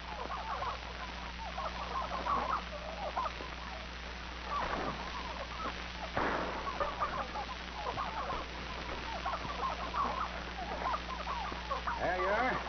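Turkeys cluck and gobble in a steady chorus over a low constant hum, with occasional louder calls standing out from the flock.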